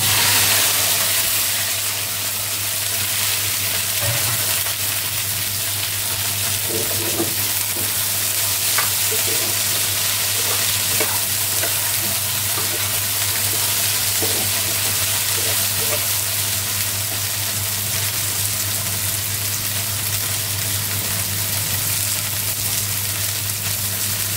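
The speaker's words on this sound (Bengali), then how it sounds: "এই যে এখন ঢেঁড়স ভাজি করতেছে" Sliced okra fries in a pan with a loud, constant sizzle that lasts throughout. Scattered clinks of stirring sound close by.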